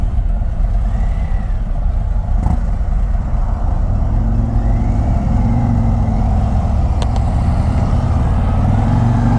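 A 2024 Harley-Davidson Road Glide rolls out, its engine a loud, steady low rumble that holds close throughout, with a couple of faint sharp clicks along the way and no talking.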